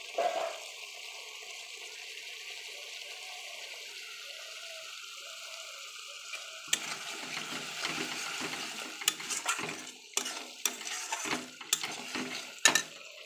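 Spice masala being stirred and fried in a pan while cooking jackfruit achar, a steady sizzle that turns busier with scraping and clattering stirs in the second half, close and fairly quiet.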